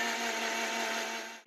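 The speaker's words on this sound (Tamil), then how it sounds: "ஒரு 30 செகண்டு மிக்சியில் ஓட விடலாம்." A mixer grinder blends buttermilk with water in a steady, loud whirring drone that runs unbroken for about a second and a half, then cuts off abruptly.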